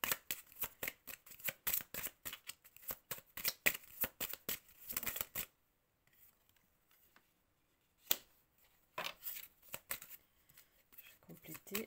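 Tarot cards riffle and shuffle in rapid, crisp bursts for several seconds, fall quiet, then resume with a few flicks as a card is drawn, close and fairly soft.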